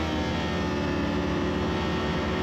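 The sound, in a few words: race motorcycle engine revving at start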